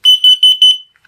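Carbon monoxide detector beside a smoke alarm sounding four loud, evenly spaced high-pitched beeps in quick succession, close by and alone with no talking.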